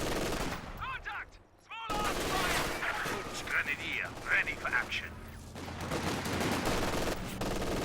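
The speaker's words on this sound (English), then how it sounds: "This guy's MG42 chopping down some squads here" Bursts of MG42 machine-gun fire tear across a Company of Heroes 2 battlefield, rapid rattling volleys repeating through the stretch alongside other gunfire, with a brief lull early on and speech mixed in.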